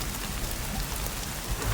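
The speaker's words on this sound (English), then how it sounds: "So this is a storm." Storm in the video game The Cycle: Frontier, with steady rain rushing over surfaces and low rumbling thunder swelling toward the end, continuous and fairly loud with no talk.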